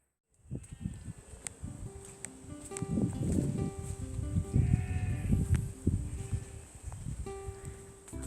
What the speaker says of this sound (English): today you just stand here and you can just hear cows and sheep.